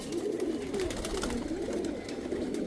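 Pigeons coo close by in a rolling, continuous murmur, with soft rustling through the short stretch and no voices.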